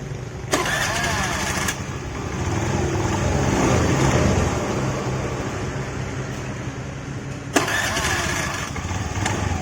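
A Honda Vario 110 FI scooter's electric starter whirs in short bursts, and the engine catches and runs at a steady mid-pitched idle. The sound is close and fairly loud, with no talk.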